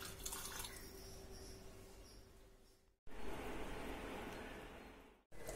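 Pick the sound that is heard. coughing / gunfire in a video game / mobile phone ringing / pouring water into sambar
pouring water into sambar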